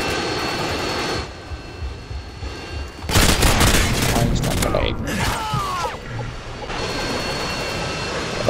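Gunfire and loud explosive bursts in the video game Modern Warfare 2, with a roaring aircraft-like engine drone underneath, dense and loud through the middle, then easing back into steady game ambience.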